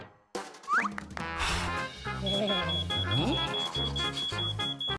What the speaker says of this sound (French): Oh non! Alarme incendie!